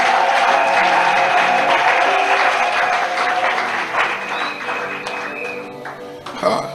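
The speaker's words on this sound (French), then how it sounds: "Acclamons le Seigneur." A church congregation applauds during a worship service, sustained loud clapping from the whole crowd that slowly fades toward the end, with voices calling out and a final burst of sound.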